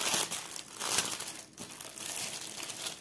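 A cross stitch kit package opened along its side, giving continuous soft crinkling and rustling of plastic wrapping with a few brief tearing bursts and no talking.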